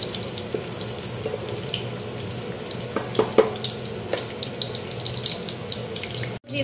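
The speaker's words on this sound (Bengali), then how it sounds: "এটাগুলোকে ভালো করে ভেজে নেব।" Whole garam masala and slit dried red chillies fry in hot oil for a Bengali crab curry, a steady low sizzle running throughout with a few sharper crackles near the middle and an abrupt stop at the end; no talking.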